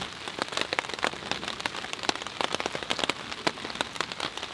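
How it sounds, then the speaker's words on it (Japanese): Steady rain patters on surfaces at a rainy-season mountain campsite, a dense continuous hiss broken by many sharp close drops, with no voices. "久々の雨キャンプです。"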